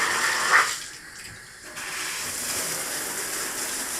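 Water spraying from a cleaned shower head in a bathroom: a brief hiss, a short drop, then a strong, steady rush of spray that continues at close range.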